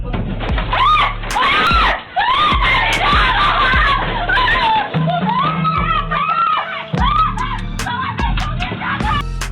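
A mini ATM worker yells and screams while chasing a robber who fled on a black Yamaha Jupiter Z motorcycle, with loud, repeated shouts and cries in a busy, chaotic scene of several agitated voices.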